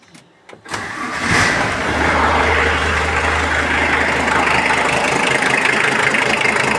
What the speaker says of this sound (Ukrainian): Трактор працює.